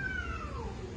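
A rescued street cat gives one clear, drawn-out meow that falls in pitch, close and moderately loud over a faint background.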